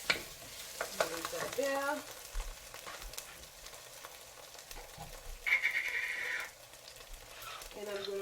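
Potatoes fry in a pan with a steady sizzle and scraping stirs, a brighter hiss swelling briefly midway, while a person speaks a few words over the cooking.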